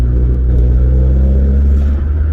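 A 1.4-litre K-series car engine rumbles deep and loud, holding a steady throaty revving note through a Cooper R sports exhaust, close by and without any talking.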